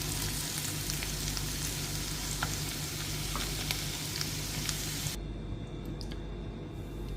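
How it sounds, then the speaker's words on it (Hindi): Potatoes fry in oil in a pan for aloo keema, giving a steady, moderately loud hiss with scattered small pops before it suddenly drops quieter near the end. "ये आलू फ्राई हो गया, 2 मिनट तक इसे फ्राई करना है।"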